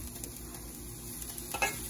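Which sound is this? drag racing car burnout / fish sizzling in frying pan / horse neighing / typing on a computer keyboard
fish sizzling in frying pan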